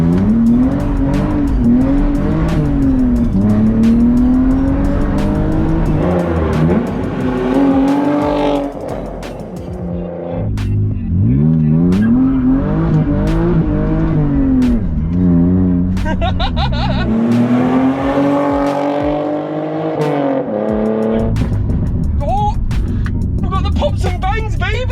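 An engine-swapped BMW E36 drives under load, its engine note rising and falling through gear changes, loud and close, running steadily with brief dips and occasional tyre noise.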